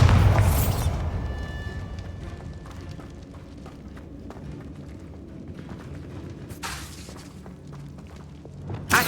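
A Bombarda blasting spell bursts against a barricade in Hogwarts Legacy: a loud booming crash with shattering debris at the start, then low rumbling ambience and a second sharp burst near the end.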